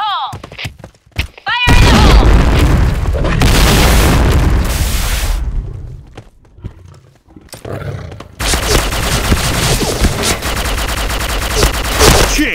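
Heavy gunfire from the Lion weapon in a shooter video game, with dense bursts and booming shots, a short lull in the middle, then sustained rapid fire, loud throughout with a voice heard at times.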